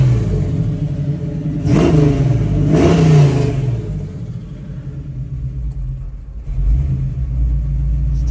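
A 1967 Chevrolet Nova's engine revs twice in quick succession from a deep idle rumble, then settles back to a steady loud idle with another slight rise near the end.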